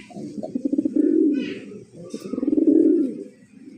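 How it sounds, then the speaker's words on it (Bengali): A male pigeon, one of a pair of fancy coloured breed birds, gives two long throaty coos in a row, close and fairly loud with no talking. "নর অলরেডি ডাকতেছে"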